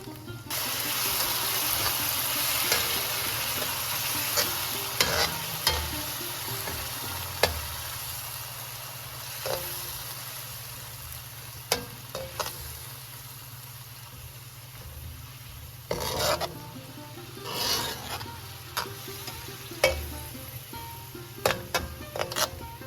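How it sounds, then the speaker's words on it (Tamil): Vegetable korma masala with ground tomato paste cooking in oil for a Tamil-style korma, a steady soft sizzle with occasional spoon scrapes and clinks against the pan throughout. "ரெண்டுலேருந்து மூணு நிமிஷம் வரைக்கும் இதை நல்லா வதக்கி விட்டுக்கலாம்"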